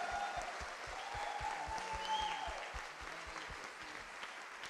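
A church congregation claps at the close of an Apostolic church service, a steady, fairly even patter of many hands with rhythmic beats underneath, sustained at moderate volume throughout.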